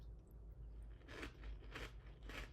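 Three loud, close crunching bites into Cheerios Oat Crunch Oats and Honey cereal, evenly spaced over a low steady background hum, with no talking.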